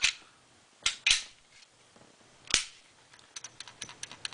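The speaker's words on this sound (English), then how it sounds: "That's the firing pin moving in the firing pin channel." Glock pistol being function-checked after field stripping and cleaning: a few sharp metallic clicks and snaps, close and loud, followed by a run of lighter quick ticks from the firing pin moving in its channel, with no talk.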